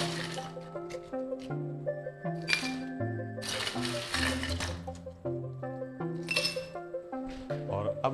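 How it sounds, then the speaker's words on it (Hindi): Ice cubes drop into drinking glasses as peach juice is prepared, giving a few bright clinks and cracks in short bursts over steady background music. "और अब हम लेंगे गिलासों में थोड़ी थोड़ी आइस क्यूब।"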